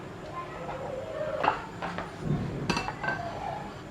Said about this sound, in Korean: 계란을 한번 썰어 보도록 하겠습니다.